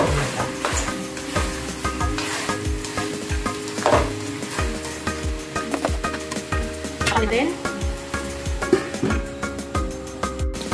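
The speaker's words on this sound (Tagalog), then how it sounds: "Hayaan lang natin siyang saute for about 2 minutes bago natin lagyan ng paprika." Potatoes sautéing in a pan for chicken curry, with steady sizzling under repeated stirring scrapes and clinks of a utensil against the pot, close and continuous.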